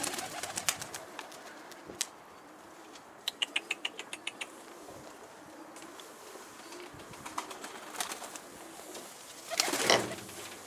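Soft bird calls and cooing from birds in a coop sound under a steady background hum, with a few brief clicks and a louder burst of chirping near the end.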